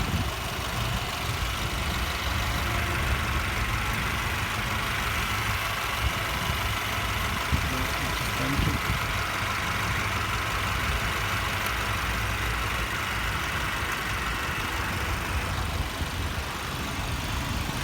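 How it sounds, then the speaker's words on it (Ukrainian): A car engine idling quietly and steadily, an even low hum with a faint high whine, no talking. "Легесенько мотор працює."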